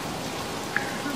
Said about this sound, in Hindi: इतनी तेज़ बारिश हुई है